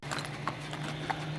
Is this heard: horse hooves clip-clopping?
yes